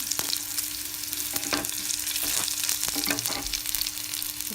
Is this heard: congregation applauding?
no